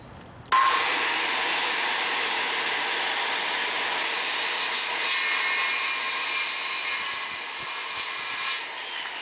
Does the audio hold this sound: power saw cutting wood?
yes